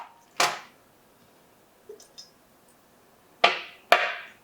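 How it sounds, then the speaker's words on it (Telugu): Dried turmeric sticks pounded into powder for chicken pickle, four sharp thuds heard alone: one early strike, two light taps midway, then two loud blows close together near the end. "ఈరోజు పసుపు కొమ్మలు పడుతుందని చెప్పాక పసుపు వేద్దాం"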